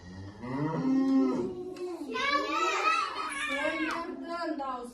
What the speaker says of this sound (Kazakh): Сиырдың дауысы тақсы.